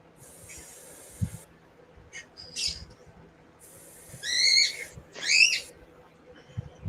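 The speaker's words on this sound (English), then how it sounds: "Ah, Noisy Bird." An outdoor bird calls in a few short, harsh, raspy bursts, the last two louder and nearer, with quiet gaps and faint background noise between them.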